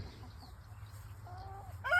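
Chickens cluck softly in a garden with plums and herbs, giving a few brief, fairly faint clucks over a low background hum.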